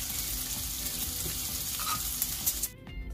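Half a tablespoon of butter sizzles steadily in a hot frying pan, a dense close crackle that cuts off abruptly near the end.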